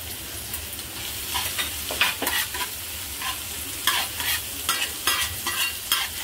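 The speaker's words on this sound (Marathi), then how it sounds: "आता कांदा जरा चांगला परतून घ्यायचा नरम होईपर्यंत" Onion and finely chopped garlic fry in a pan for a liver tawa fry, a continuous close sizzle broken by frequent spatula scrapes and stirring knocks.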